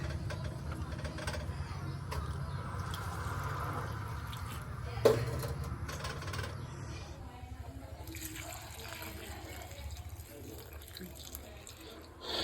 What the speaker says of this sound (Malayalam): ഇതിനകത്ത് കുറച്ച് ഇതൊന്ന് കിടക്കുന്ന പരുവത്തിൽ വെള്ളം ഒഴിച്ചു കൊടുക്കാം